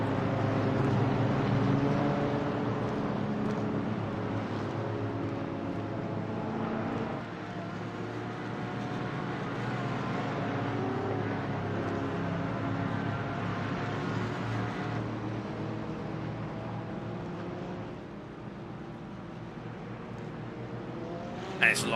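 GT4 race cars in iRacing launching from a standing start at the Nürburgring Nordschleife, a dense, continuous engine roar with layered harmonic tones rising and shifting, under a commentator's voice.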